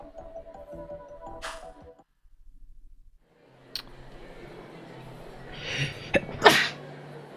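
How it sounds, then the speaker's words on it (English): A single sharp sneeze bursts out near the end, loud and close, after stretches of quiet, faint tones and small clicks, with no talk. "Had to sneeze."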